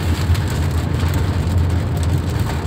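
Steady heavy rain drumming on a surface, close and constant, with a low rumble underneath and no voices.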